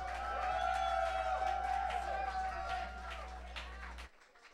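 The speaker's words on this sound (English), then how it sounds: "Let's give them another round of applause." Audience at a live coding performance at Wonderville, crowd cheering and clapping over a steady electronic hum and tones that cut off near the end, moderately loud.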